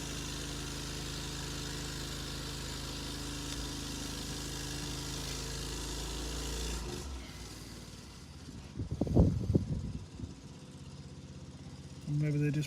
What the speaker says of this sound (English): maybe they're just priming the pump ready to fill up the engine